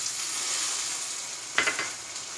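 Small onions and ginger fry in a pan with a soft, even sizzle, broken near the end by a few quick stirring scrapes, with no one talking.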